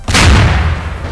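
A melon bomb exploding in a Garry's Mod Melon Bomber match: a single loud, close boom with a sharp onset and a deep rumbling tail that fades over about a second.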